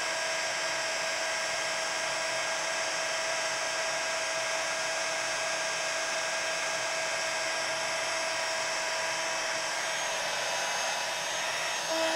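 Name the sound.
heat tool melting embossing powder on art journal page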